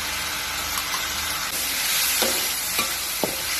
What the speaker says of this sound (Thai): หลังจากผัดถั่วงอกได้ที่แล้ว ไม่ต้องผัดนานนะครับ